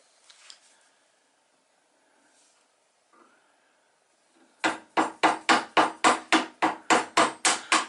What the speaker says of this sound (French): Avec un ciseau, maintenant tu enlèves entre les traits de scie.